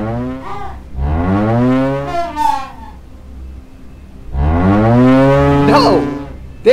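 Cows moo in a Team Fortress 2 Widefort map animation: two long, loud, close moos with a drawn-out rising and falling call, separated by a short quiet gap.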